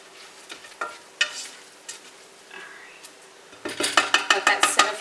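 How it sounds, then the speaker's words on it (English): Vegetables softening in a pressure cooker for Louisiana gumbo are stirred with a utensil, giving scattered scrapes and clinks against the pot, then a rapid run of rhythmic metallic scraping over a faint sizzle, with no speech. "So I'm stirring these around."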